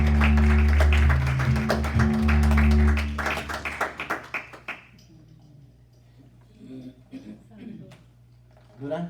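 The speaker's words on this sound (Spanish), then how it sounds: "Démosle un aplauso grande al Señor." A church congregation claps in a brief rhythmic burst, heard faintly under loud music and talk, then a few scattered claps continue after the music cuts out.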